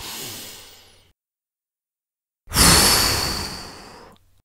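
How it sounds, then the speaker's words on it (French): A strong breathy exhale during a guided breathing meditation for children, a long loud rushing breath after a pause of silence, close and alone. "Puis souffle très fort."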